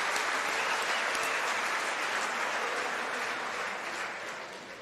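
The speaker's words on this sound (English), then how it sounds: "Just give our sponsors another round of applause" Dense, sustained applause from an audience at the Western Cape Prestige Agri Awards 2025, steady and full before gradually fading toward the end.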